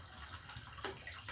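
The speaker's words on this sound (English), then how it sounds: "I have to put some more water here in case it becomes so thick." Water is poured into a pot of porridge being cooked in Nairobi, Kenya, a short, close splashing trickle with a few small surges, heard alone without talk.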